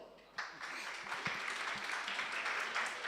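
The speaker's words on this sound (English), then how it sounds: "Please, your applause." Applause from the audience at a startup competition, starting abruptly after a brief quiet moment and continuing as an even, moderately loud spread of clapping through to the end.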